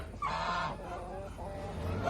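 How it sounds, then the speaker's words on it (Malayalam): Nearby turkeys, about one year old and kept for sale, give a loud honking call followed by softer gobbling and warbling calls, with faint talk in the background. "ഈ കാണുന്ന ടർക്കികളെല്ലാം വിൽപ്പനക്കുള്ളതാണ്"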